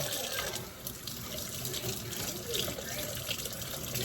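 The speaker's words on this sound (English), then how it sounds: "Give it a rinse." A sink faucet runs steadily as homemade butter is rinsed beneath it, giving a continuous close splashing gush of water for the whole stretch with no break.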